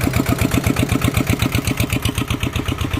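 A vehicle engine on a rural farm road chugs in a steady, rapid rhythmic pulse, loud and close, with no voices over it.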